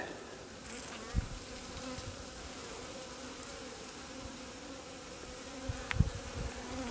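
Honeybees in an opened alpine-style beehive give a steady, close insect buzz that hums continuously, with a couple of brief soft knocks against the hive and no voices.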